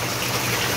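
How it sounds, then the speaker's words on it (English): Pumped water in a trout aquaponics cooling setup pours up and over onto cloth, a steady close gushing, splashing wash with no breaks. "which is just pumping the water up and over onto the top"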